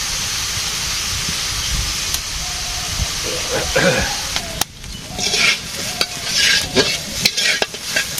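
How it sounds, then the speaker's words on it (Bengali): Soybeans fry in a village kitchen with a loud, steady sizzling hiss, while a utensil stirs and scrapes the pan in irregular bursts and faint voices murmur now and then. "সয়াবিনটাকে ভেজে নেই।"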